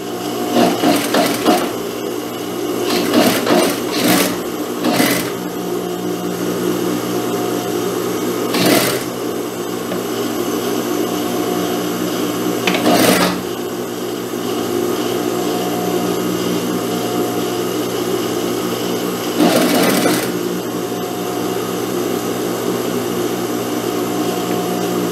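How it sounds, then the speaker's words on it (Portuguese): A sewing machine runs steadily while stitching the shoulder seam of a stretchy blouse with a lastex neckline, a continuous loud motor whir broken by a few brief pauses and clicks. "aqui eu vou iniciar a costura do ombro. Vou costurando aqui normalmente até chegar aqui, ó, no outro ombro."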